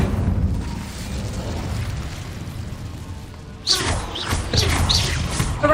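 A fire spell cast in the Hogwarts Legacy video game, inside a cave, bursts out as a sudden loud whooshing blast partway through, followed by crackling flare-ups over a low, rumbling game ambience.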